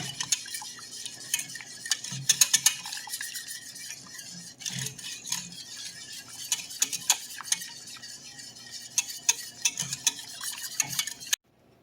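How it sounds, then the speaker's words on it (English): A whisk clinks and scrapes rhythmically against a metal pan of homemade caramel sauce, with quick repeated strokes and a faint simmer underneath. "Now at this point, I'm using a whisk."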